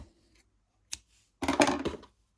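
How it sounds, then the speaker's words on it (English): Scissors snip through crochet yarn in a quiet room: a single soft click, then a short crisp cutting sound up close. "And now we will cut our yarn"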